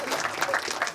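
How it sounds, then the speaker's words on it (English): A conference audience gives a brief round of applause, a short burst of clapping at moderate distance. "So round of applause."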